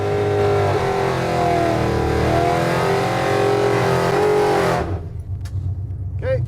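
A nitrous-fed muscle truck accelerating at full throttle, a loud sustained engine roar with rising and shifting pitch that suddenly drops away near the end, leaving fainter engine rumble and a brief whine.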